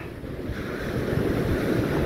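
Surf rolling onto Boracay beach at night during a storm's high tide, a steady loud wash of waves with gusty wind noise buffeting the microphone throughout.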